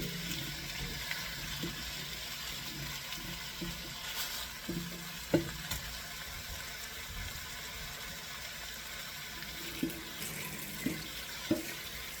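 Lamb pieces browning in a hot pan, a steady soft sizzle and crackle with occasional sharper pops, close and fairly quiet, with no talking.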